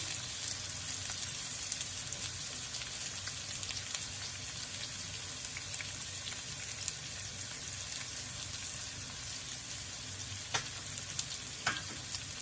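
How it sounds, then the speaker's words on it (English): Onions sautéing in a pan toward golden brown, a continuous even sizzle up close with occasional small pops and clicks of stirring, no speech. "So I'm going to saute these until they're golden brown."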